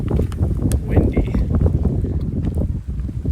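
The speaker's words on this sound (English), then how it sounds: "Windy." Wind blows hard across a microphone beside a cold mountain lake below Rysy in Poland, a loud low rumbling buffet with constant gusting and no gaps.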